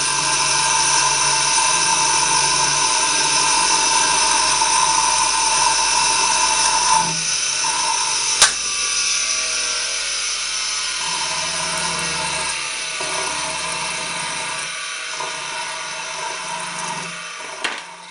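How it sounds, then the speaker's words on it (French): Bench grinder sharpening the tip of a metal probe for a homemade high-voltage probe, giving a loud, steady high-pitched whine that runs throughout with small dips where the metal is pressed against the wheel. "je l'ai mis dans ma meule et puis donc je vais meuler le bout là pour rendre la pointue"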